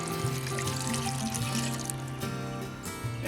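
Water pours into a stew pot on a camp or home stove, a continuous splashing trickle that changes pitch as the pot fills, with no talk over it.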